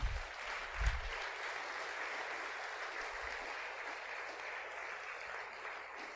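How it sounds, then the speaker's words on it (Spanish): A church congregation breaks into sustained applause during a sermon, a broad, even roar of many hands clapping that holds steady for several seconds, with a couple of low thumps near the start. "Denle un aplauso bien fuerte al Señor."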